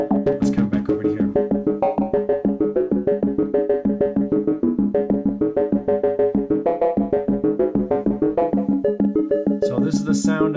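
A modular synthesizer FM patch built on Maths channels plays a busy, rapid sequence of harmonically rich, metallic tones in a steady pulsing rhythm, loud and close, with no talk.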